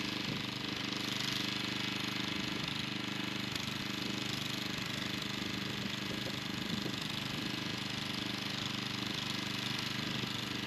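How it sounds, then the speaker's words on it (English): A vintage Snapper lawn mower engine runs steadily with a rough, knocking drone, constant and fairly distant throughout, no voices. "finally, we got it back running, and we can get back to mowing"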